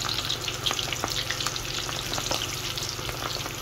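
Shrimp fry in hot oil in a pan, a loud continuous sizzle with small crackling pops close up and no voices.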